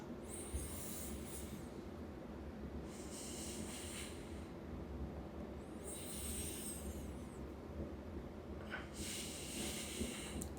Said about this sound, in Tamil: கண்ணை மூடிட்டு கூட வயிறு வரைக்கும் இழுக்கிறது வெளியில் விடுறது மூச்சு